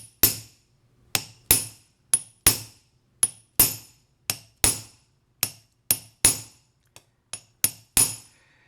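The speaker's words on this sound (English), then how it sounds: "I'm going to put the tool right in the center and start striking." A hammer strikes a tool set on copper backed by plasticine, giving sharp metallic taps in an uneven rhythm of roughly twenty blows, each ringing briefly before fading, with silence between strikes.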